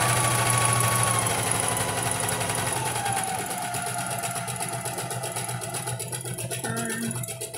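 A domestic sewing machine whirs steadily as it runs a reverse stitch to lock the seam, its motor buzz and rapid needle rhythm close and continuous, easing slightly near the end.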